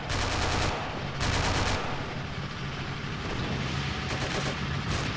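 Rifles and SMGs trade fire in the Army Men battle game, with dense, rapid bursts of shots overlapping continuously, loud and steady throughout.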